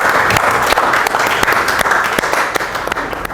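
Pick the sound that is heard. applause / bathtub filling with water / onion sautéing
applause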